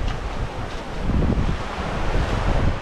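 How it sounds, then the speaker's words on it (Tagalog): Ocean waves at Alobijod Cove beach on Guimaras Island, Philippines: a continuous roar of surf mixed with wind noise on the microphone, steady and fairly loud without distinct separate breaks. "Look at the waves."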